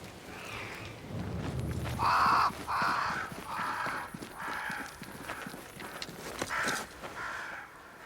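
Crows caw in the video game Banishers: Ghosts of New Eden, flocking to a great tree, with a run of about seven harsh, evenly spaced caws, loud and close, alongside hoof-like clopping.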